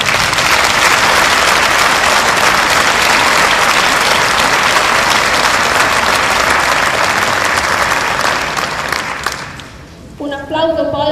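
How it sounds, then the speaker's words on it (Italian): An audience at a civic merit awards ceremony in Belgioioso applauds loudly and steadily for about nine seconds before the clapping thins out and tapers off. "a cui chiedo voi di regalare un applauso."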